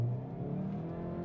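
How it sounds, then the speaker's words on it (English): A hot hatch, either a Hyundai i30N with dual-clutch gearbox or a Toyota GR Yaris, launches off the line in manual mode, its engine note rising in a strong, close, continuous growl under acceleration. "And so now let's begin with a short little launch off the line."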